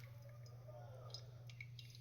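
Coffee draining through a Verve Dwell pour-over dripper filled with coarse grounds, a faint, steady trickle and soft dripping close by over a low background hum.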